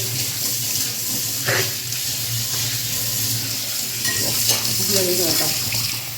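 Kitchen tap water runs steadily into a sink while dishes are washed, a continuous close splashing hiss with brief clinks and rustles, no talking.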